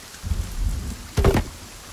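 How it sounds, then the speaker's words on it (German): Rain hissing steadily in the survival game Sons of the Forest, with a low rumble early on and a sharper crack of thunder bursting out about halfway through before fading back into the downpour. "Das Gewitter ist immer noch sehr, sehr laut"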